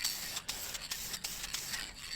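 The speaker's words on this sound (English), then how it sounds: "You got to sand one spot." Custom shotgun stock being sanded by hand, a close, steady rubbing hiss with short rhythmic strokes and brief pauses, no talking.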